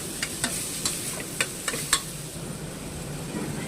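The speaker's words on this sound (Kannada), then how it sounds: "ಚೆನ್ನಾಗಿ ಎಲ್ಲ ಫ್ರೈ ಮಾಡ್ಕೊಳ್ಳಿ." Poppy seeds, sesame and grated coconut frying in a pan for mutton sambar, a steady soft sizzle with a series of sharp scraping taps from a stirring spoon in the first two seconds, then continuous frying hiss.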